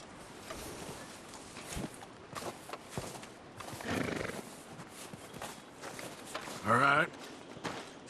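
Horses in Red Dead Redemption 2, with scattered hoof clops and snorts and a sharp whinny near the end, heard under voices in a quiet outdoor night setting.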